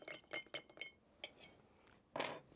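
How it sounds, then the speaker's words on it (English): A smoky spiced Amaretto cocktail stirred in a glass, quick light clinks of a spoon against the glass in a short burst, then a pause and one brighter rattle, close and quiet. "Oh, I forgot to stir."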